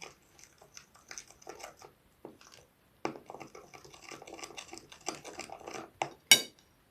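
A spoon stirs flour with oil and other dough ingredients in a bowl for sweet yeast buns, giving intermittent scrapes and soft clinks, close and alone, ending with one sharper clink.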